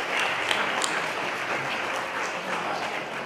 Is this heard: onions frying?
no